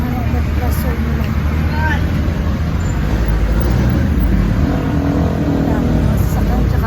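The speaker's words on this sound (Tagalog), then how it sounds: "Ang dalakas na mga tunog ng sasakyan guys." Loud roadside traffic: cars, buses and other vehicles rumbling and passing close by in a continuous, heavy wash of road noise with engine revving, heard from the street.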